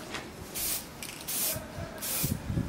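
Spray paint is applied to a chopper motorcycle mudguard through an attachment nozzle: three or four short, close hissing bursts with brief quiet gaps between them.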